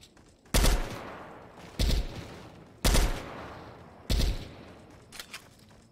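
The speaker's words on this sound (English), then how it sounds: "What's up the gunshots for?" Four loud, sharp gunshots from a Fortnite squads match ring out in a slow, uneven sequence, each with a trailing echo. A few fainter shots follow near the end.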